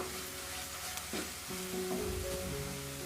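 Onions sizzle in a hot pan as coriander powder goes in for a mutton boti curry, a soft steady frying hiss with a few scrapes and stirring clatters of a spoon, fairly quiet throughout.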